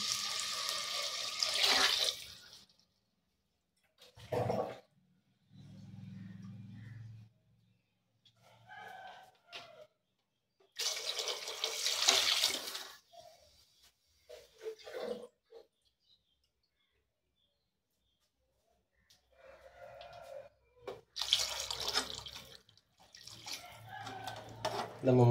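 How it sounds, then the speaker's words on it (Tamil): Water pours into a cooking pot for rice in bursts of rushing, tap-like flow that start and stop, with quieter gaps of handling noise between them. "நம்ம 3 டம்ளர் தண்ணி ஊற்றிட்டோம்."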